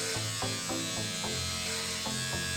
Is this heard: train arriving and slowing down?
no